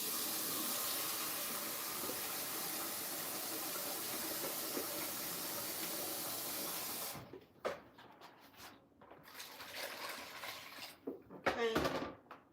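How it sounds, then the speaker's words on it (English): Fresh tap water runs steadily into a bowl of fish being washed for Nigerian egusi soup, a close continuous hissing stream, then it stops and leaves scattered splashes and handling noises at the end. "And I'm gonna put fresh water in it."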